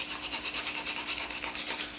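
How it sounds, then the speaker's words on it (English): Sandpaper scrapes back and forth across a coconut shell in quick, even strokes, making a close, rhythmic rasping sound on its own. "I can just start sanding it down."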